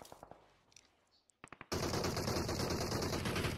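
Gunfire in a tournament shooter video game: a few sharp isolated shots, then a sudden sustained burst of rapid automatic fire that continues loudly to the end.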